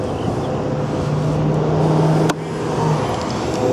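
A 2010 Harley Davidson Softail Fat Boy Lo motorcycle engine rumbles loud and close, holding a steady, throbbing low idle with a brief sharp click partway through and no speech.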